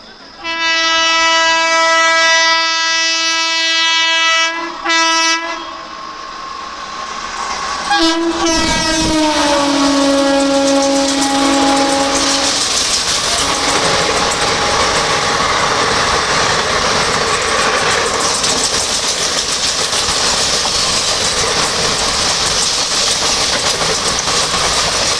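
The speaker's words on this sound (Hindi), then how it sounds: "अभी यहाँ बसवा रेलवे स्टेशन पर रानीखेत एक्सप्रेस उसकी स्पीडी क्रॉसिंग होने वाली है" The Ranikhet Express sounds its horn in long, loud blasts as it speeds through Baswa railway station, then the horn slides down in pitch and gives way to a sustained roar and clatter of coaches rushing past close by.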